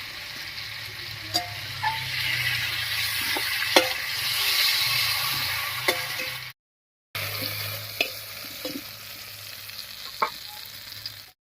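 Pieces of fish and ridge gourd fry in oil, giving an even, moderate sizzle with scattered small pops and clinks and a brief silent gap partway through.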